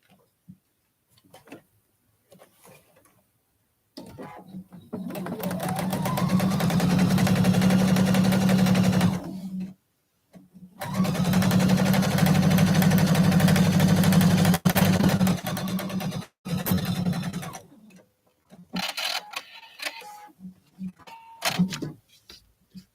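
Sewing machine stitching quilt block pieces together, two long steady runs of fast, even mechanical whirring, close and loud, separated by a short pause, with quiet handling sounds before and after.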